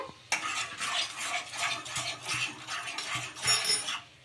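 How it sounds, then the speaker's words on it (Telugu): A spoon stirs water with salt, sugar and oil in a pot, making rhythmic swishing strokes about every half second with metal scrapes and clinks against the pot, close and fairly quiet. "ఒకసారి బాగా కలిపేసుకుందాము"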